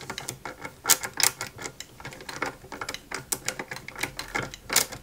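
Small screws being driven into the rear section of a Lancia 037 model kit, with clicking, ratchet-like bursts of turning that come in quick irregular runs and stay close and moderately loud, with no voices.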